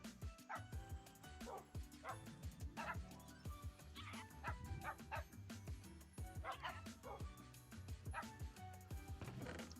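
Pet parrots mimicking dog barks in a home with two dogs, a busy run of sharp yips, barks and whimpering calls repeating irregularly, moderately loud, with some talking mixed in.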